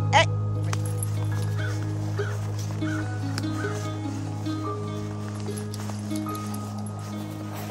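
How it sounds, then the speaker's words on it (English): Dogs give faint whimpers and occasional yips outdoors on a snowy forest walk, sitting quietly beneath a steady low hum of background noise. "I'm gonna go dry these puppies off with some warm towels."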